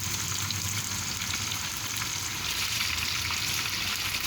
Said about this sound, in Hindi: जीरा डाल दूँगी अब मैं।